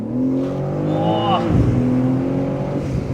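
Manhart MH3 650, a 650 hp tuned BMW M3 Touring, pulls at full throttle under a bridge, engine note rising steeply then dropping briefly at a shift before climbing again, loud and close from inside the car.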